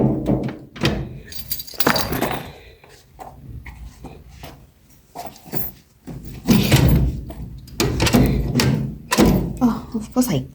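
Car keys jingle and a household door thuds shut among scattered knocks and clatter, with a person talking on and off throughout.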